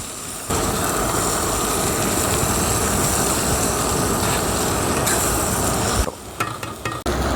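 Finely chopped onions sizzle in a pan and are stirred, a dense, loud frying hiss that runs steadily. Scraping and clatter break it up near the end.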